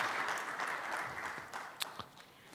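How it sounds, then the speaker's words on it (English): A conference audience claps for panelists, a soft, steady round of applause that thins out after about two seconds, leaving a few scattered claps. "Clap for everybody, please."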